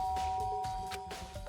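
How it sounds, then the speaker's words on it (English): A doorbell chimes in a few soft, ringing tones that sustain and fade, fairly quiet with no voices. "Press the doorbell."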